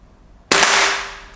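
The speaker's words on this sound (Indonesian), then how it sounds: "Kita akan coba langsung menembakkan tembakan pertama pakai mimis Barakuda Match." A single sharp air rifle shot firing a Barracuda Match pellet cracks out after a quiet moment, followed by a brief fading ring.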